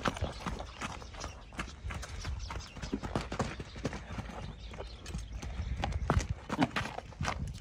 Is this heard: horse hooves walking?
yes